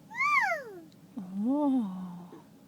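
A 16-month-old baby in a car seat imitates a cat's meow, giving two rising-and-falling mewing calls, the first short and higher, the second longer and lower, close and clear.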